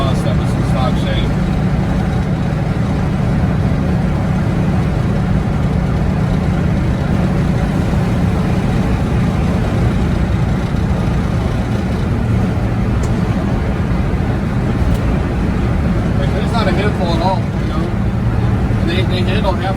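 A 1973 Volkswagen Type 2 panel van cruises at 75 mph, its engine and road roar a loud, constant drone throughout while someone talks over it.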